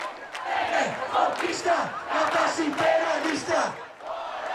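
A large crowd of protesters in a street in Brazil shouting and chanting together in rising and falling waves, loud and massed, with voices rolling in repeated surges across the whole stretch.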